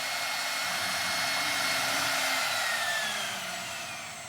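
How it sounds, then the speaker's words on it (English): A CNC router with a compression bit cuts plywood full depth in a single pass at half-inch depth and 80 inches per minute, making a steady, loud, broadband whine and hiss that holds throughout and eases slightly at the end. "This test, we're gonna go straight to a full depth cut, one pass, plywood."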